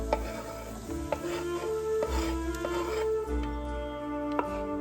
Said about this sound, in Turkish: Kapya biber tavaya.